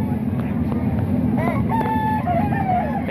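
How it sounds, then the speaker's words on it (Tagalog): Roosters crowing repeatedly at a rooster market in Baliwag, with bright rising calls and some clucking over a steady crowd murmur and nearby voices. "Dalawang manok din to."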